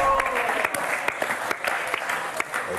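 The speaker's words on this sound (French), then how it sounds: "Est-ce qu'on vous a applaudi, mais vraiment très fort?" A studio audience applauds on the French game show Motus, steady clapping throughout with a voice talking faintly underneath.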